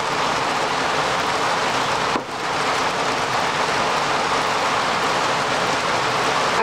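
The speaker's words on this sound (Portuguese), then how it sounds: "Agora com barulho forte de chuva" Heavy rain falls in a steady, loud, unbroken hiss that stays constant throughout apart from a brief dip, with no voices.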